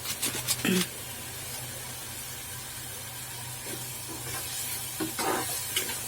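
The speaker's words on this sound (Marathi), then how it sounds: "आलं आणि लसणाचा उग्रपणा नाही होईपर्यंत भाजून घ्यायचं आहे" Ginger and garlic roasting with Everest garam masala in a pan for a green pea usal, producing a soft continuous sizzle and hiss, with brief clattering stirs near the start and again later.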